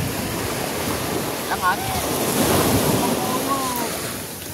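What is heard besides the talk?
lots of rushing water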